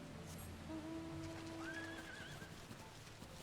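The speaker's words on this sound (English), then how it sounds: "For some reason, the horses on the grass sound really weird" A horse's hoofbeats on grass in the Final Fantasy XIV game world, a faint soft clip-clop with a short whinny over a quiet ambient backdrop.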